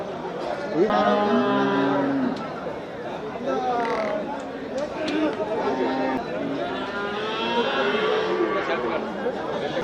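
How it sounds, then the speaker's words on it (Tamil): Cart bulls and other cattle at the bustling Melapalayam cattle market, with occasional low moos and animal sounds mixed into steady crowd chatter and nearby people talking. "என்ன இது வண்டி மாடா வண்டி மாடை வண்டி மாடு எத்தனை பல்லுண்ணா"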